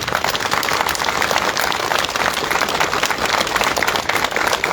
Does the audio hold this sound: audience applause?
yes